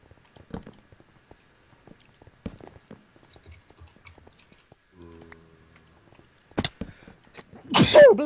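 A sneeze bursts out near the end of a Minecraft-style multiplayer game session, loud and close after several seconds of quiet clicks and faint game sounds.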